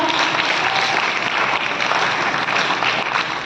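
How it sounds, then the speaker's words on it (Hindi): A dance academy's fifth anniversary celebration erupts in a full audience ovation: a thick, steady wash of applause from many hands, loud and unbroken for three and a half seconds. "तालियां थोड़ी जोरदार होनी चाहिए क्योंकि आज का प्रोग्राम बहुत अच्छा था"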